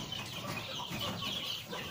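Chickens cluck continuously in a busy, close flock of livestock, with overlapping calls and no talking.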